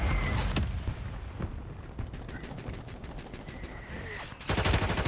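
Call of Duty video game gunfire: rapid automatic bursts crackle loud and close, with short pauses between volleys and a heavier burst at the end.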